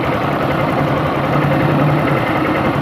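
160 cc motorcycle engine with a worn clutch bell bearing, running steadily with a dense, continuous mechanical rattle and metallic whine close to the mic, no voices.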